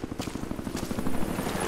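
A helicopter in Rise of the Tomb Raider gives a heavy, close, pulsing rotor chop with a dense engine roar, steady and loud throughout, with no talking.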